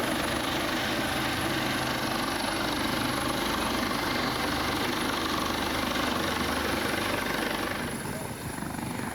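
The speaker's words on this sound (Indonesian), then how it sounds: "Basarnas kerahkan helikopter untuk evakuasi korban banjir bandang di Kabupaten" A Basarnas rescue helicopter flying during flood evacuations in Agam, West Sumatra, giving a loud, continuous rotor thrum and engine whine that dips slightly near the end.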